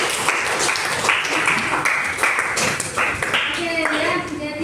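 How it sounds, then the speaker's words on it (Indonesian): Applause from a school class during a physical education lesson on adolescent reproductive health, dense clapping hands mixed with voices and a teacher talking over it throughout. "Sekali lagi berikan tepuk tangan"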